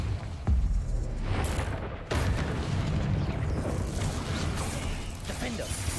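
Fiery Confringo spell blasts in Hogwarts Legacy combat: several sharp booming bursts over a dense, rumbling battle din, with a heavy hit near the start and more around the two-second mark.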